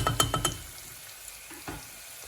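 Chopped tomatoes drop into a pan of softened frying onions, giving a few quick loud stirring clatters at the start, then a quiet, faint sizzle with a couple of soft scrapes.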